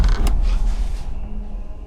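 A door creaks open once, a short low groan in a quiet indoor room, with no voices.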